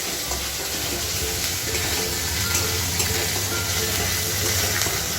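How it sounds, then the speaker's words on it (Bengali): Onion paste sautéing over medium heat in a pan for egg korma, a steady loud sizzle and hiss that runs without a break and has no talk over it. "আঁচটা মিডিয়ামে রেখেই আমি পেঁয়াজটা কষাচ্ছি"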